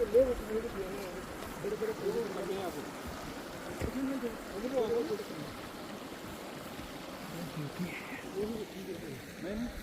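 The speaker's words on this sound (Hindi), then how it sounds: "ये पानी देखिए क्या साफ पानी निकल रहा है।" Clear water flows and burbles steadily at Chandratal Lake, faint and continuous beneath people talking.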